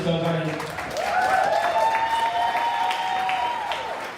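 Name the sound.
audience applause for live painting artists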